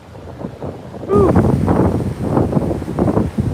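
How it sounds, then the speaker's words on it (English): Wind buffeting a microphone outdoors beside a lake, heard as a loud rumbling roar that starts abruptly and continues steadily, with voices talking under it. "excuse the wind"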